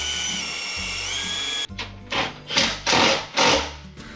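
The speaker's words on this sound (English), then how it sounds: "I think I'm gonna drill those holes and bolt them real quick." A power drill bores bolt holes while a radiator is mounted on a Toyota FJ45 Land Cruiser, starting after a steady whine with four loud, separate drilling bursts, each rising and cutting off, close to the microphone.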